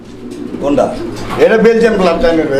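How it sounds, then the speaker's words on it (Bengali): Grizzle pigeons, a pair of fancy birds of Belgian bloodline kept for sale, coo in low, rolling phrases that swell after the first second and continue steadily, close by, with a voice talking over them. "আর এটা হচ্ছে আপনার গ্রিজেল কবুতর একটা জোড়া দেখতে পাচ্ছেন"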